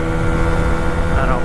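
A scooter fitted with a big bore kit runs at wide open throttle, giving a continuous loud engine drone with heavy wind rush and no breaks.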